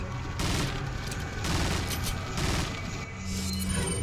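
Heavy sniper rifle fire from Resident Evil 4 Separate Ways crashes out in loud, booming bursts with rolling echo that nearly fills the stretch, followed by a brief lull and more blasts.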